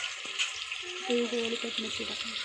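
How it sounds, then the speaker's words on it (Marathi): Fish fries in a pan with kokum, a faint, steady sizzle with light crackling and brief stirring noises, close by and fairly quiet. "आता उबळली की मच्छी टाकणार आहे त्यामध्ये आणि आता अजून फ्राय होत आहे"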